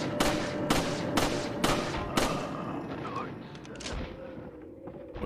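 Video game gunfire: a string of sharp, loud shots in quick succession early on, thinning to scattered pops, with someone talking over it.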